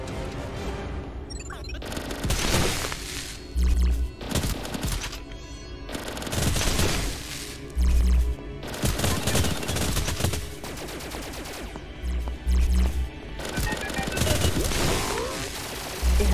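Gunfire in the VR shooter Boiling Steel, with dense bursts and single shots cracking repeatedly across the whole stretch amid game music and effects, loud and close.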